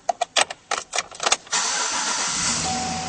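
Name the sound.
2011 Chevrolet Silverado 1500 engine starting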